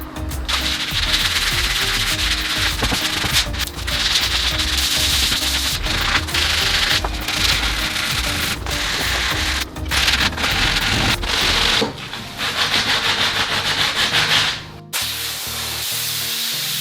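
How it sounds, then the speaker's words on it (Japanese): Wet sandpaper rubs a painted wooden workbench for a small boat fitting, a continuous close gritty scrubbing with steady back-and-forth strokes and a brief break near the end. "サンドペーパーに水をつけて 水研ぎで作業台の方研磨していきたいと思います"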